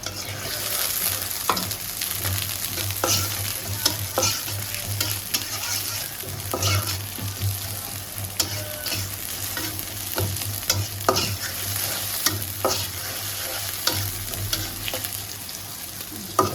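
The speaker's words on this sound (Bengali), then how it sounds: "পেঁয়াজ দিয়ে দিলাম, কাঁচামরিচ। সুন্দর করে ভাজিটা আমরা করি, দেখেন।" Onions and green chilies frying in an oiled pan, a steady loud sizzle with repeated scrapes and taps of a spatula stirring, close and continuous without talk.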